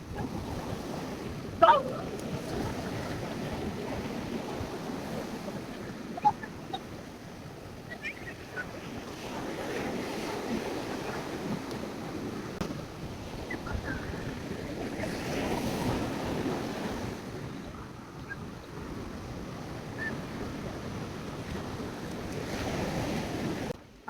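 Ocean waves roll and break on Tannirbhavi beach near Mangalore, a steady wash of surf rising and falling in broad swells with wind buffeting the microphone and a few faint sharp sounds.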